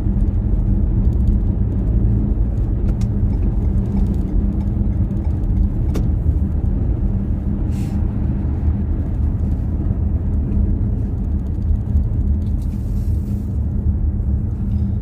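Steady car engine and tyre rumble while driving along a road in Riyadh, Saudi Arabia, a continuous low drone at constant loudness from inside the vehicle.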